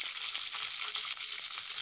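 Small shallots sizzling in hot oil in a pan, a bright continuous hiss and crackle heard up close, short and steady with no voices.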